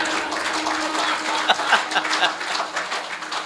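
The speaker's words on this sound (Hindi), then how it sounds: "बजाओ ताली ढंग से।" An audience at a Hindu religious discourse bursts into clapping on request, a brief moderate round of applause over a voice talking through it.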